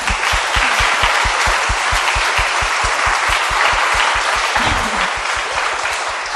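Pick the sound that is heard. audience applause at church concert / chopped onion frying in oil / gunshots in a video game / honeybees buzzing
audience applause at church concert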